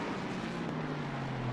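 Big front-engine, rear-drive V8 race cars in Assetto Corsa Competizione give a steady, droning engine roar that holds one sustained pitch, loud and continuous with no voices over it.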